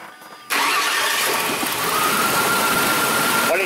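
A Mazda B3000 / Ford Ranger pickup with a lean-running misfire cranks and fires up abruptly after a short quiet moment, then holds a loud, steady running roar close by.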